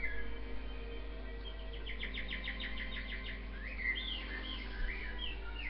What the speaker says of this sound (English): I don't know what all these birds are.